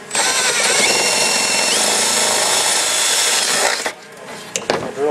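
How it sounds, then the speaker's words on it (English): Holes for door bolts are drilled on an off-road build with a power drill, a loud continuous whine for nearly four seconds. Brief rattles and clatter follow as it stops. "We're going to drill the rest of them."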